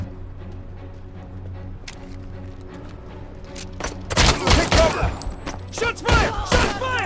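Gunfire in the RoboCop: Rogue City video game, starting after a quiet stretch of low ambience around four seconds in, then loud bursts of shots with some overlapping speech.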